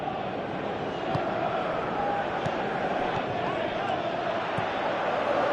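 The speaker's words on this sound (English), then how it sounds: "Crowd appreciates good football all round there." Crowd noise in a football video game, a steady broad roar of stadium spectators under a commentator's voice, with faint thuds scattered through.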